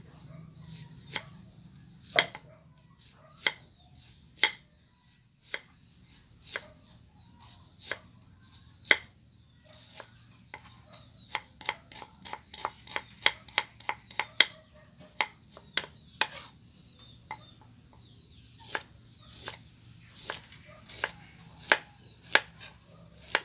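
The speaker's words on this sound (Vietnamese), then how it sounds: "Giờ mình sẽ đi xắt cái củ hành tím này nè nghe các bạn" A knife chops shallots steadily on a cutting board, sharp close taps that quicken into fast bursts midway, with no talking.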